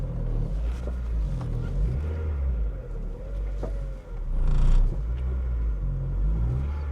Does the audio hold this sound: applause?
no